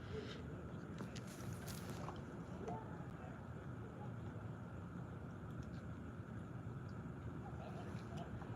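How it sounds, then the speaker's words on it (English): A low, steady boat motor drones quietly and continuously, a soft even hum with faint water and wind noise around it. "That boat is purring like a kitten."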